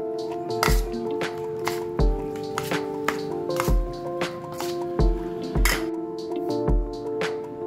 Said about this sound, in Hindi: इसमें हम तकरीबन आधा पाव दही डालेंगे, मिक्स बहुत अच्छे से करना है इसको।